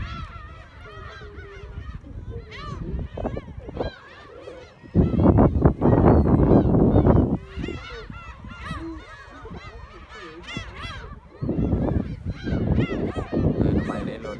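Many seagulls squawk and cry repeatedly nearby in a noisy flock at Oido seaside, with bursts of rushing wind between calls.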